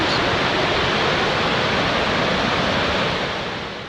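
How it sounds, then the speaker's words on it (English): Murchison Falls roaring as a powerful waterfall, a dense, continuous broadband rush of crashing water heard up close and loud, fading slightly at the very end. "You see, smell, and hear the awesome roar of the falls."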